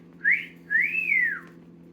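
A parrot imitates a human whistle with two clear, close whistled notes: a short rising one, then after a brief pause a longer note that rises and glides back down. No talk is heard.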